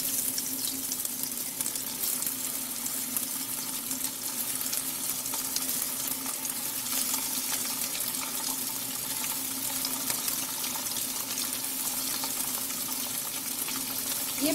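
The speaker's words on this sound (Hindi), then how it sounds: "अब हम इसमें एक एक करके अपने पनीर को फ्राई करेंगे" Paneer pieces fry in hot mustard oil, giving a steady, dense sizzle and crackle that continues evenly throughout at close range, with no talking.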